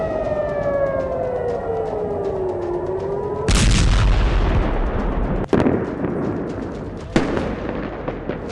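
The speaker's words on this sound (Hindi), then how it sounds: "नवंबर की शाम को हिजबुल्लाह ने इजराइल पर 100 से ज्यादा रॉकेट दागे।" Hezbollah rocket attack on Tel Aviv: a wailing air-raid siren rises and falls, then a loud blast erupts and rumbles on, followed by further sharp booms and bangs at a distance.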